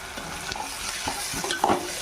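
Onion paste fries for a spicy Andhra chicken fry, with a soft, steady sizzle in the pan and scattered scraping stirs of a spoon, close and fairly quiet with no voices.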